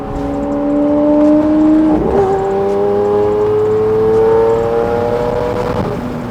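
A Lamborghini Aventador engine pulls hard up an on-ramp, its steady rising drone stepping through a gearshift partway and climbing again, heard loud and close from inside the car, with no talk.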